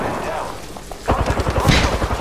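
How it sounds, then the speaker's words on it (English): Automatic weapon fire in the video game Apex Legends, a rapid rhythmic burst of shots that starts after a quieter opening and continues loudly to the end, with game sounds underneath. "I am taking fire, friends."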